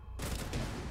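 A burst of gunfire in Rainbow Six starts abruptly and carries on loud and dense to the end, with no pause between the shots.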